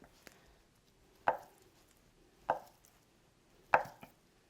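Knife chopping tofu and sliced green chili on a cutting board for pollock stew; three or four distinct, sharp thuds spaced about a second apart, close and fairly quiet, with no talk.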